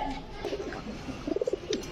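A Hungarian Budapest pigeon coos in a quick run of soft, throaty pulses against low background noise.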